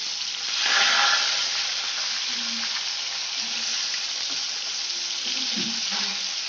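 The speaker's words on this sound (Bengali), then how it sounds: "আমি মাছগুলো লাল লাল করে এক পিঠটা ভেজে পরের পিঠটা উল্টে দেব।" Pieces of catla fish fry in hot oil in a pan, a steady close sizzle with occasional light scrapes and taps of a turner underneath.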